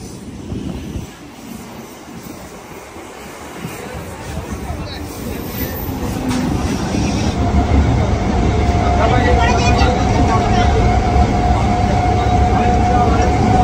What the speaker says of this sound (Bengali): ফাইনালি আমাদের ট্রেন ঢুকছে মেচেদা দীঘা লোকাল।